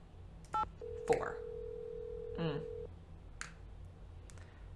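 Phone keypad tones sound from the Nancy Drew: Secret of the Scarlet Hand computer game, a few separate beeps spaced over a few seconds under a quiet background, with a person briefly speaking a number.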